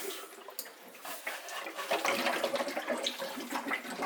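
Water running and trickling through a Pinter home brewing device set up for a Public House IPA, a steady splashing flow that builds slightly and continues alone without talk.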